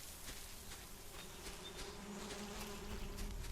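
Bees buzz softly and steadily in the Solarpunk video game, a faint continuous insect hum with no other sounds.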